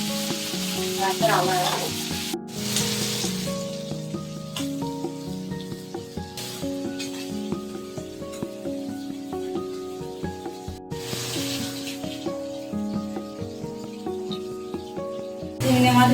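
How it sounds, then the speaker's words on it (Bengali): Large prawns fry for a Bengali chingri macher jhal in a kadai, a steady loud sizzle running throughout with occasional stirring scrapes; a voice speaks briefly near the start. "চিংড়ি মাছগুলো আমার লাল লাল করে ভাজা হয়ে গেছে"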